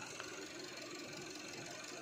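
A small 1.9-litre car engine idles in a quiet, even low hum with a faint steady mechanical ticking, heard alone at a distance and without talk.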